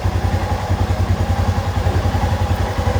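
A Royal Enfield Himalayan 411 motorcycle engine idles close by after a repair with rust removal and a battery fix, giving a loud, steady, even thump with no speech.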